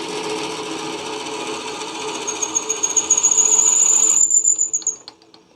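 A drill bores a hole 2.5 inches deep into salvaged wood for a tool handle, a steady grinding whir that rises into a squeal as it bites deeper, then stops.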